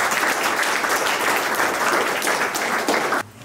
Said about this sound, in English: So can we just clap it up for Mr. Garrett right now?